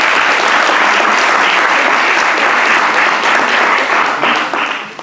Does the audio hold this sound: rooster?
no